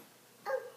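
A young child imitates a dog's bark with one short, high yip-like sound, clear and close against a quiet room.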